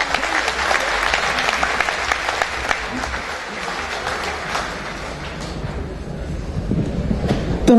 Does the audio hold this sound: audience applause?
yes